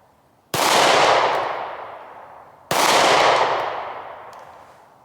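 Two sharp shots from a 9mm Shield micro-compact pistol fired outdoors at a target 80 meters away, each loud crack followed by a long, fading echo, about two seconds apart.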